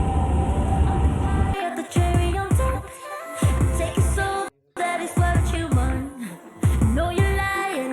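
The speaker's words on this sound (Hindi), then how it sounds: "ट्रेन चल पड़ी अपनी, खाली है यार ऑलमोस्ट।" A nearly empty passenger train running from Italy toward France heard from inside, with loud rolling rumble, repeated rhythmic wheel clunks and tonal squeals over the track, a brief near-silent dropout midway, no voices.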